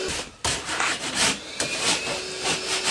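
Rasp shaving about an eighth of an inch off the edge of a drywall panel in a recording studio, with repeated rough scraping strokes close up and no talking.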